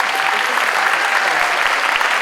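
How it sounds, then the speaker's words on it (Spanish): Warm, sustained audience applause at an international nursing congress, dense and continuous clapping from a large hall crowd, loud and steady throughout. "la maestra María del Carmen Martínez Corona, para quien les pido un caluroso aplauso."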